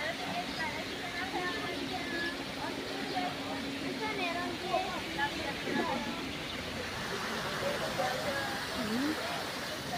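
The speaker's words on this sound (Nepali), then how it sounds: "पानी झरिरहेको" A waterfall near Kakopetria keeps up a steady, even roar of falling water, fairly faint and unbroken, with voices talking softly beneath it.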